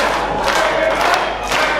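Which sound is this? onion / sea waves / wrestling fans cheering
wrestling fans cheering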